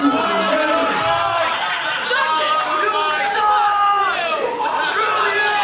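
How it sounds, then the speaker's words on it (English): A wrestling arena crowd roars and chatters continuously, loud and dense throughout, drowning out the ring announcer; steady, near, with no individual voice standing out. "This crowd absolutely eating Brandon Locke alive here, not letting him get a word in"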